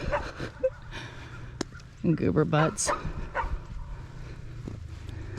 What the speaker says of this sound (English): Erin's doggies are barking at me.